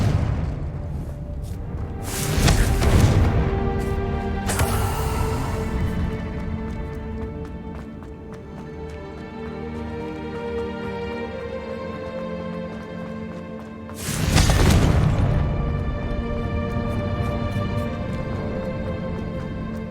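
Blasting-curse explosions in the Hogwarts Legacy video game, two loud booming bursts a few seconds apart standing out over ongoing game sounds and music.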